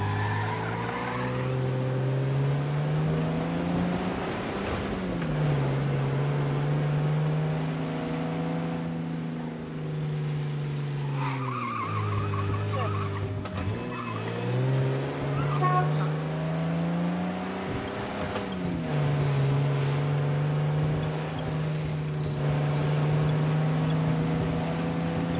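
A heavy 125-horsepower car in the video game Mafia drives steadily, its engine droning loud and close, the pitch climbing and dropping as it shifts gears and slows, with someone talking over it.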